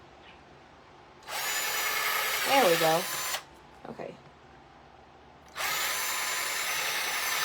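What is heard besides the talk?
power drill drilling into wood treehouse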